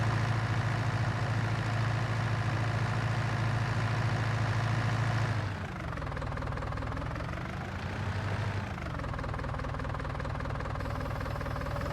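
A Fiat tractor in the Farming Simulator 19 video game drones steadily while plowing a spring field, a loud continuous engine note that dips and shifts pitch midway before settling back into a constant rumble.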